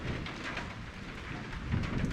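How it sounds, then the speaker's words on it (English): A heavy thunderstorm with steady rain pours down continuously, a dense broadband wash with a low rumble of thunder swelling near the end. "the most hectic freaking storm has just hit"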